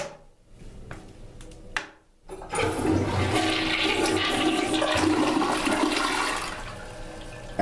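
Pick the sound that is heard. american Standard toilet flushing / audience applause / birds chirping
american Standard toilet flushing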